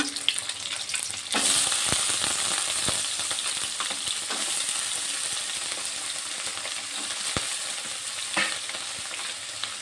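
Potatoes and onions frying in hot oil for a vegetable dish, a constant close sizzle that rises when the food goes in, with occasional stirring scrapes and no talking.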